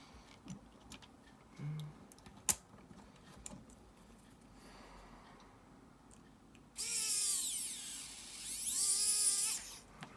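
Small power screwdriver driving AP screws into a Knight Rider model kit part, two separate whirring bursts with rising and falling pitch after a stretch of quiet ticking and handling clicks.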